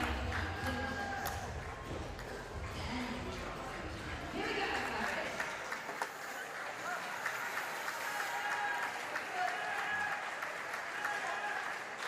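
Crowd noise at a wheelchair para table tennis doubles match, with an enthusiastic Thai supporter cheering amid broad, steady applause-like roar and chatter throughout.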